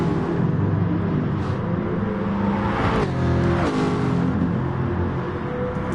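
A race car engine in a PS4 racing game drones and revs steadily, with tonal engine harmonics shifting as it climbs through the gears, close and continuous without speech.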